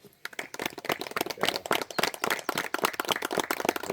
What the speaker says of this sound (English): Can I have another clap, please?